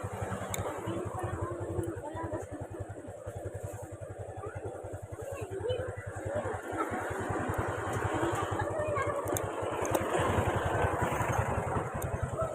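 An engine idles with a rapid, even low putter, running steadily throughout, with some faint background noise around it.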